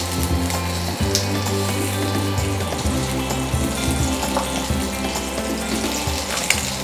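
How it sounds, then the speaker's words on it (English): Chorizo sausage meat frying in a pan while a wooden spoon breaks it up, a loud continuous sizzle with a steady low hum underneath, close and unbroken, no voices. "with a wooden spoon I'm gonna break that lovely meat into the pan like this"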